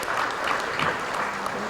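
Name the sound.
audience applause for the panelists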